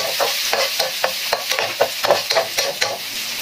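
A spatula scrapes and stirs garlic in a sizzling pan for Filipino bopis, with steady rhythmic strokes, each about a third of a second apart, over a continuous frying hiss, close and fairly loud with no voices.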